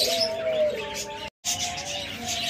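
A pair of lovebirds up for sale lets out a few short, bright chirps and twittering calls, close by and fairly soft, broken by a moment of silence.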